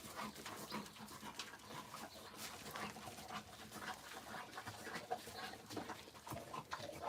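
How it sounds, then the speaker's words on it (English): A German Shepherd and St. Bernard mix puppy panting close by, with quick, rhythmic breathy huffs that continue steadily at low volume. "This is our German Shepherd and St. Bernard mix, and she's still a puppy yet."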